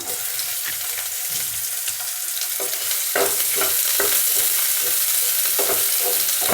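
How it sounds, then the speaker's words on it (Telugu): Chopped onions fry in oil in a pan for kadai paneer, a continuous crackling sizzle with repeated scraping stirs that grow louder and busier partway through, close up with no talking. "ఇప్పుడు అందులోనే మనం కట్ చేసి పెట్టుకున్న ఉల్లిపాయ ముక్కలు"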